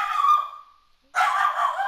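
A dog named Mambo gives two loud, close barks or yelps with a short silent gap between them, each one drawn out and whiny.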